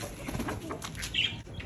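Racing pigeon, a female, flapping its wings in a loft, with a quick burst of wingbeats and a brief coo-like call in a short close recording, no talk.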